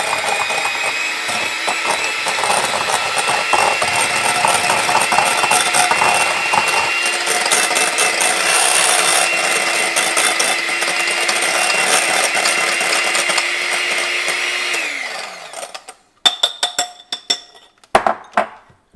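A blender whizzes keto blueberry cheesecake ingredients in one loud, steady motor whine lasting about fifteen seconds before winding down, followed by a few sharp clinks and knocks.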